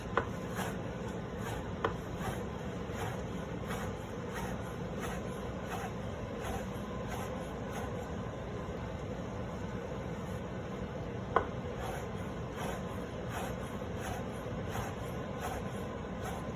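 A knife cuts soft pasta dough into small pieces for little ears pasta, a steady series of faint, close tapping chops on a board, evenly spaced over a quiet background.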